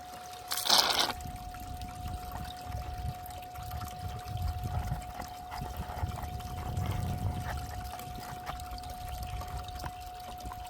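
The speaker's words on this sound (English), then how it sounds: "Put a bit of fresh water back in there and we'll suck her up" Fresh water poured into a gold-prospecting sluice tub and sucked back up, a soft steady trickle and gurgling slosh close by, with a brief sharp clatter near the start and a constant faint tone underneath.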